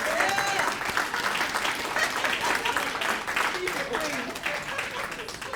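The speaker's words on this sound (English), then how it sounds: "Rosemary, give Rosemary a round of applause." An audience at a police public service award ceremony applauds steadily in a sustained round of clapping, with voices mixed in beneath it.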